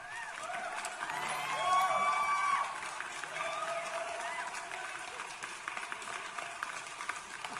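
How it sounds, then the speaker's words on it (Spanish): Applause sound effect played on a Spanish talk stream, a steady crowd clapping and cheering that swells briefly near the start and then holds at a moderate level, with people chatting over it. "voy a ponerte los aplausos"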